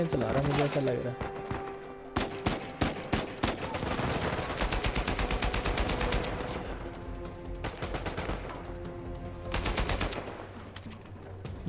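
Uncharted 4: A Thief's End combat gunfire comes in repeated rapid bursts and sharp single shots, loud and dense in stretches with brief lulls, and a player talks over parts of it.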